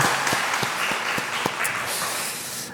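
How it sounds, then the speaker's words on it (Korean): A church congregation claps together during a Sunday afternoon service, loud rapid clapping with several sharp individual claps standing out, then tapering off. "우리 박수로 한번 격려합니다."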